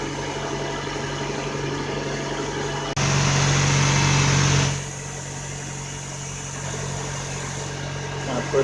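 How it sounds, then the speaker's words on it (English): A car engine idling after a non-dismantle fuel injector cleaning, a steady low hum that swells louder for a couple of seconds mid-way before settling back to a quieter idle. "This is the first time this motor's running in this car."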